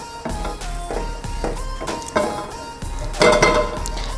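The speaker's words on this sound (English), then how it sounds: "Take our spatula and sort of just stir the oil around so nothing sticks." A spatula scrapes and taps around a pan of olive oil set on medium heat, giving a series of close, bright metallic clinks and scrapes in an irregular rhythm, with no talking.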